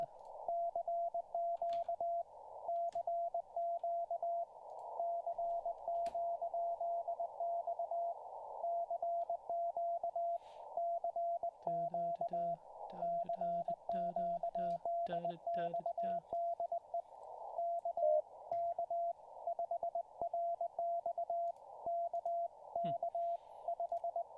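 Steady high Morse code tone on amateur radio keys out continuous dits and dahs with short gaps for the whole stretch, while a voice briefly speaks under it midway through a live practice session.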